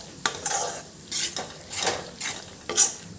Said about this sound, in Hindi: अब हम इस बेसन को भूनने वाले हैं